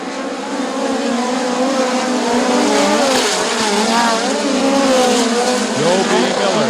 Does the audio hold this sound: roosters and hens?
no